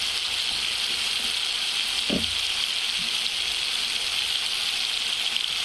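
Tomato masala frying in a pan, a constant soft sizzle hissing alone throughout with a couple of faint utensil taps.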